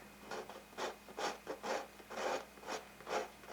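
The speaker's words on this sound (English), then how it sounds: "I can refine it a little bit with my scraper" A hand scraper smoothing the wood of a handmade instrument, about ten rhythmic rasping strokes in steady succession, close and fairly quiet, with no other sounds.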